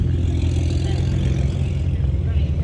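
A car fitted with a titanium exhaust revs at a BMW enthusiast meet, a steady loud engine drone held throughout with people talking over it.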